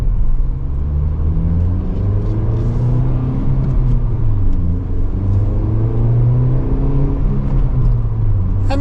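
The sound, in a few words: Nissan Sentra Nismo engine and exhaust revving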